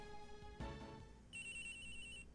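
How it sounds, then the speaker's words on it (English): A phone rings in the courtroom drama game Ace Attorney Investigations 2, an electronic ringtone chirping steadily after a brief thud, close and clear, with no one speaking. "Whose phone's ringing?"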